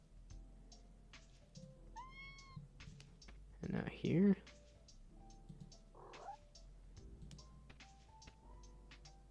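A loud cat meows in a cute puzzle video game, one drawn-out caterwaul standing out among soft clicks and keyboard tapping while a person talks quietly nearby.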